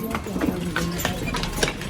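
Horse hooves clip-clop on a street in Florence, Italy, a run of brisk, fairly close strikes heard under people talking nearby.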